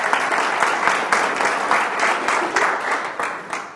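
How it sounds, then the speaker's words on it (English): A TEDx audience in Portsmouth applauds warmly, a loud, close, steady wave of many hands clapping with slight pulsing swells and no speech over it. "Give him a round of applause by way of encouragement."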